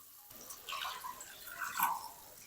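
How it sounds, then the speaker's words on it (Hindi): Water is poured into a pan of fried chillies, giving soft splashing and trickling over a couple of seconds, fairly faint and close, with no talking. "इसके अंदर ना 2 कप पानी डाल देंगे"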